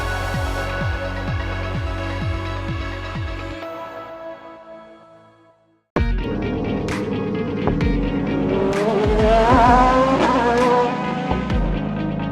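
Formula One race cars roaring past at high revs, with repeated rising and falling engine whines and gear shifts, a brief drop-off, then a loud sustained engine scream with pitch sweeps.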